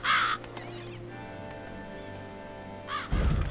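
Crows caw in The Witcher 3 game world, a loud, close burst of harsh calls at the start and another at the end, with quieter in-game ambience between them.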